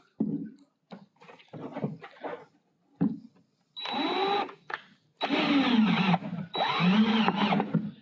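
A power drill drives small screws into a board in several short bursts, each whirring run rising and stopping, close and fairly loud, with quieter handling sounds between.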